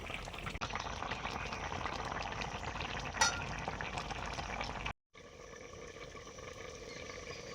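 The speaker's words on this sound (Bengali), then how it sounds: "টকটা ফোটা শুরু হয়েছে" A broth of sour dried mango (amsi) coming to a boil in a covered pot, a soft continuous bubbling and simmering hiss with a faint clink, briefly cut off then resuming.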